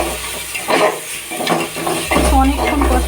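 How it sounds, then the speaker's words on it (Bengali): Mutton mince being sautéed in a pan, a close stirring scrape against the metal over a low sizzle, with brief clinks of a utensil. "ভালো করে কষিয়ে নেবো"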